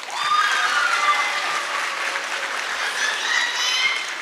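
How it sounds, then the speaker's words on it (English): A crowd applauds at a high school graduation ceremony, dense even clapping sustained throughout at a steady level. "Round of applause."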